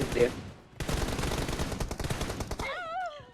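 Rapid automatic gunfire in the mobile game PUBG Mobile, a dense burst of shots lasting a couple of seconds, loud and close, with a short voice before it and warbling tones after.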